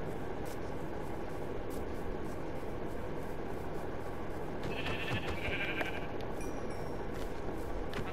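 Sheep bleat in the video game Minecraft, a couple of short bleats midway through over a steady, noisy background hum.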